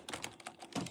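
Keyboard keys tapped in a quick, uneven burst, a run of clicks with a heavier thump near the end, close and fairly quiet on an older computer keyboard.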